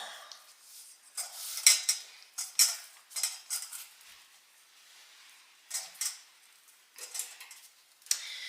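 Crumb cake topping for a chocolate chip crumb cake is pressed and mixed by hand in a bowl, giving soft clinking and scraping bursts in irregular clusters, close and moderately loud, with no talk.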